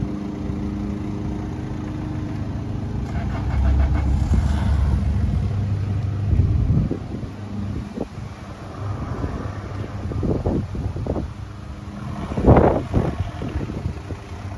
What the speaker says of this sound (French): Le départ de notre berlingot.